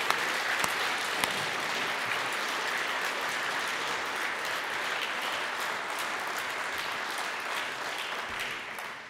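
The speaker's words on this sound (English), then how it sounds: "Let's give him another round of applause" Steady, sustained applause from an evening audience for a political speaker, a dense wash of many hands clapping at even loudness throughout, with no voices over it.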